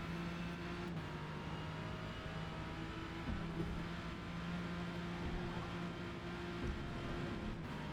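A Ford race car engine hums at sustained revs in a Forza racing game, a dense, steady drone with slight pitch shifts, held below the red line and heard without any talk.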